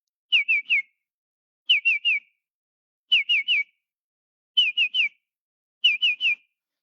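Five evenly spaced bursts of clear, whistled bird calls from a Panamanian bird, each a quick run of three or four notes, with silence between them.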